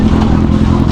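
A Kawasaki 650 motorcycle engine idles nearby at a Suzuki event, a steady loud low rumble with a constant throb throughout.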